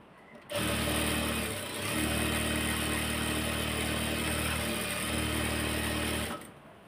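Sewing machine stitching a salwar, a steady close mechanical whirr running for about six seconds with one brief slowdown partway through.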